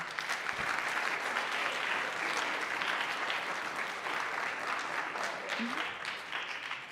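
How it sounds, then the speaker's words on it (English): Steady applause from an audience at a presentation on distracted driving and vaping fills the space, a dense continuous patter of clapping that holds at an even level before tapering slightly. "Let's give her a round of applause."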